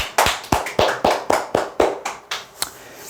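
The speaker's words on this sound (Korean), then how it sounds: "박수." Scattered claps from a small seminar audience at an insurance telemarketing sales talk, about ten sharp, distinct hand claps in a loose, uneven rhythm, close and clear in a quiet room with no talking.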